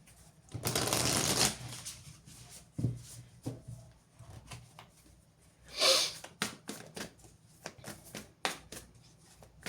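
Oracle and Akashic tarot cards are shuffled close up in quiet bursts, a long riffle followed by a scatter of quick soft card slaps and flicks, with no talk.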